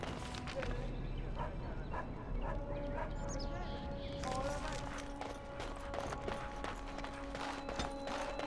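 A dog in the video game Dragon Age: Origins barks and yips in short repeated bursts with a few whimpers, set against game ambience, a sustained tone and light clopping sounds.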